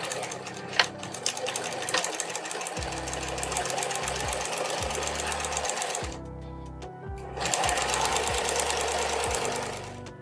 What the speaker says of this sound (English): we've sewn all along the sides and part of the bottom